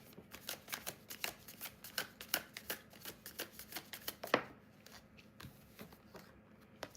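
Tarot cards being shuffled during a live card reading, a rapid series of crisp riffling flicks in an uneven rhythm, close and fairly quiet, with one louder snap near the middle and no talking.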